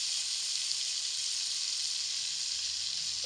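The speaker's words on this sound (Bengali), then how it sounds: "এই সমস্ত মশলা আমি একসঙ্গে খুব ভালো করে কষিয়ে নেব মিডিয়াম আঁচে রেখে" Ground cumin, red chilli powder, salt and turmeric sizzle in hot oil over medium heat, a steady, even, bright frying hiss that carries on without a break and sounds close and fairly loud.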